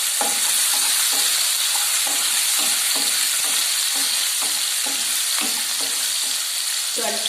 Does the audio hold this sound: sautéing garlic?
yes